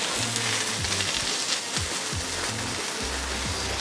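Soft, steady sizzling of mushrooms frying under a second frying pan pressed on top, with a few low clanks and thumps of cookware over the hiss.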